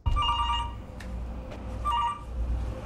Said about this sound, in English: phone has been steadily ringing